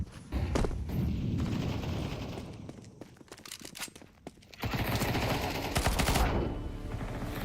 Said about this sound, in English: Flashbang itu.